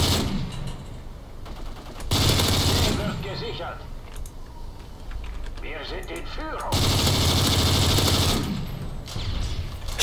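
Machine gun fire in Modern Warfare 3, loud sustained bursts from about two to three seconds and again from seven to nine seconds, with quieter game noise and talking between.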